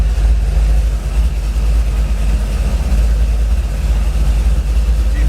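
A 1957 Chevrolet engine-swapped with an LS V8 idles steadily with a low, even rumble, no revving or voices, continuous throughout.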